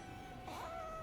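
A cat meows once in the Rise of the Ronin game, a single drawn-out, fairly loud meow that rises and then falls, heard alone with no talk.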